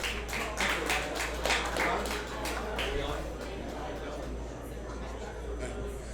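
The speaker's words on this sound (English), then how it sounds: "Give him a round of applause, please." An audience at an investment conference applauds a speaker taking the stage, a dense patter of many hands clapping at moderate distance that thins out over several seconds, with a faint low room hum underneath.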